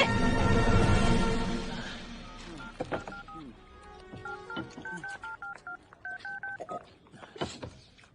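Telephone keypad tones beep one after another in short, uneven bursts, following a louder muffled stretch at the start.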